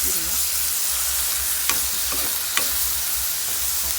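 Pork and chili paste stir-fry in a pan, a steady broadband sizzle throughout with a few sharp utensil clacks against the pan, close and continuous, no talking.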